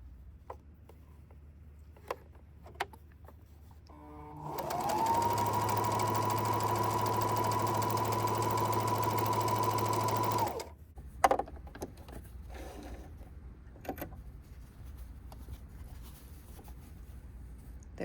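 A Kenmore sewing machine running a zigzag stitch with the A presser foot on, a steady whirring motor hum lasting about six seconds, framed by quiet clicks and handling before and after.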